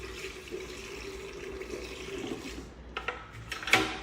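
Water running down a freshly cleared drain pipe, a steady gurgling flow that grows choppier in the last second with splashes and sloshing.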